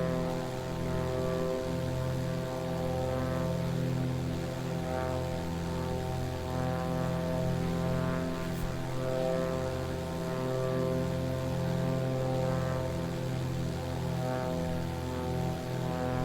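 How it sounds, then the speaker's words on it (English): A Beechcraft Sierra's propeller engine in Microsoft Flight Simulator 2020 drones steadily with a deep, even harmonic hum and no break, heard alone and close. "let's listen to some Beechcraft Sierra ASMR for a little bit here"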